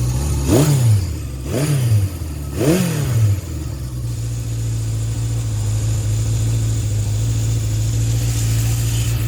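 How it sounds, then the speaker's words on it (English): A 1976 Honda CB750K motorcycle engine revs three quick times, then settles into a steady, low, even idle with the choke off that continues to the end. "she settles into a nice idle here"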